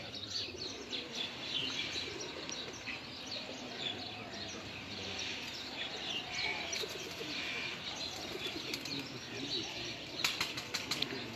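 Sitamgar Teddy pigeons flap their wings in a busy burst of flight outdoors, with scattered chirps and soft coos mixed into the fluttering.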